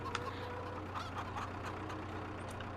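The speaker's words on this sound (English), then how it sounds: "So now we got lots of chickens." Flock of chickens in a fenced pen in Farming Simulator 22, clucking and chattering steadily at moderate volume over a constant low engine-like hum.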